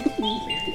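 An injured pigeon gives a few soft, low coos in quick succession, close by, over a faint steady tone.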